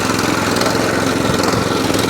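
A Qualcast Suffolk Punch 14sk petrol cylinder lawn mower runs steadily with its cylinder and drive engaged, a close, even engine chatter with rapid cutting rattle and no talk.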